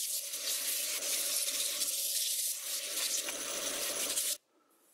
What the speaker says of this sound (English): It's still pretty wet, so it's hard to sand it down.